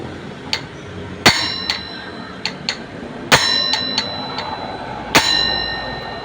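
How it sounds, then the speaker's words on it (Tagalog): Sharp metallic hammer strikes ring out on a seized stock brake disc, a few loud blows and lighter taps at uneven intervals, each leaving a bell-like ring. "Tuloy tayo sa pagpukpok."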